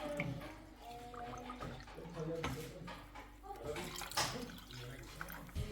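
A drink is poured into homemade lemonade, making a gurgling, splashing liquid sound up close. A person's voice can be heard faintly underneath.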